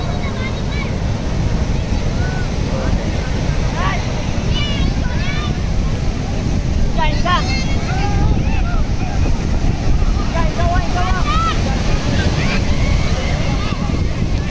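Sea waves roll onto a beach in Goa as a steady, loud surf and wind roar throughout, while people talk over it.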